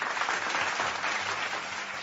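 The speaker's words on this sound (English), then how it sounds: "applause for that." A steady, dense burst of applause, many hands clapping together at an even level throughout, sounding like a stock applause effect with a bright, slightly hissy, compressed character.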